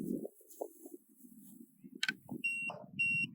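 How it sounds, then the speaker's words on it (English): Two short, steady electronic beeps from an orienteering checkpoint station ring out in the second half, near and clear, over a low rumble of movement and breathing. "Hear that beep, see that light? That means you're good to go."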